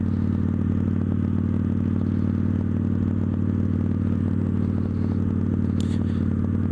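A Victory Judge cruiser motorcycle engine rumbles at a steady low pitch around 2,200–2,300 RPM, 35 mph in third gear, constant and close, with faint rattles over the deep hum.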